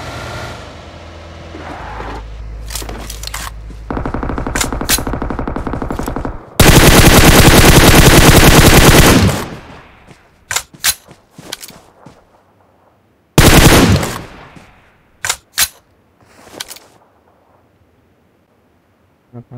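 Battle royale shooter gunfire: sustained loud automatic bursts mixed with engine-like drone, then a long continuous volley followed by scattered sharp single shots and short bursts that trail off into silence.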